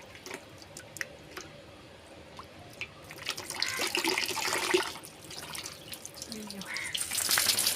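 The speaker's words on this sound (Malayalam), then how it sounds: "ഇച്ചിരി വെള്ളം ഇങ്ങനെ ഒഴിച്ചൊഴിച്ച് വിടണേ" Water is poured out bit by bit while bathing a child at home, splashing and trickling in uneven bursts that grow louder toward the end, with faint background sounds and no clear talk.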